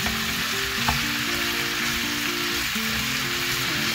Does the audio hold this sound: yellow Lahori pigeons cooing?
no